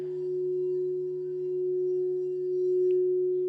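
A steady, pure ringing tone from a crystal singing bowl circled with a mallet hums on without a break, soft and sustained with a gentle pulsing swell.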